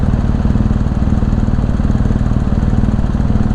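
A 300 cc motorcycle engine runs steadily while riding, giving a loud, continuous low pulsing drone with no talk over it.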